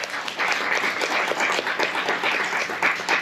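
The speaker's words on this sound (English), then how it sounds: "Josh, y'all clap for that." Church congregation applause during a sermon, a full, lively burst of many hands clapping close and fairly loud, holding steady throughout with no talking over it.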